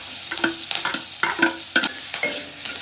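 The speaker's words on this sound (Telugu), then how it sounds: "దోరగా ఫ్రై చేసుకోండి" Onions fry in oil with urad dal, chana dal, dried red chilies, curry leaves, green chilies and asafoetida, as a spoon scrapes the pan in a steady run of close, crisp stirring strokes over a soft sizzle. No one speaks.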